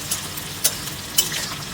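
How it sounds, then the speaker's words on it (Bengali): Onions frying in hot oil for beresta, a steady soft sizzle with a few sharp spatters and stirring clinks, close and alone. "ফার্স্টে বেরেস্তাটা ভেজে ফেলছি"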